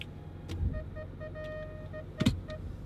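Cabin sounds from a 2010 Range Rover Sport 3.6 TD V8 HSE as it sets off: a low steady rumble with a few soft thumps and short electronic chime tones, and no talking.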